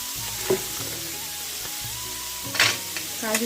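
Cashews sizzling in hot oil in a pan while fried rice is made, a steady frying hiss with a few sharper crackles and clinks from a spoon.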